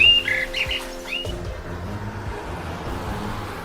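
A small bird chirps in a few quick high tweets at the start over a low steady hum, then outdoor background noise continues with no further calls.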